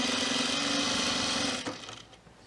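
A sewing machine stitches binding onto a fleece pullover, giving a fast, even mechanical whir at close range that runs steadily and then stops abruptly near the end.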